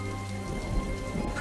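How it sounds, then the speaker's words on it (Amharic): Heavy rain pours down in a dense, continuous wash with low rumbling underneath, no voices. "ዝናቡ በጣም እየጣለ ነው"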